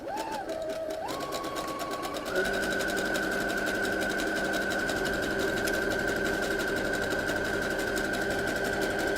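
A home sewing machine runs a zigzag stitch on fabric for a kids' donut pillow, whirring steadily and close, speeding up after a brief start and holding an even mechanical hum with rapid needle ticking.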